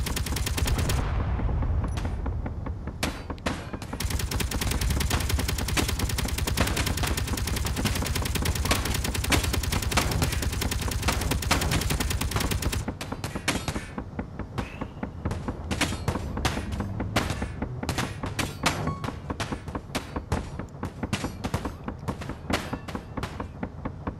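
Rapid bursts of gunfire pound away at the player's vehicle in the space game Space Engineers, a dense, loud barrage that runs continuously, then thins into scattered sharp volleys.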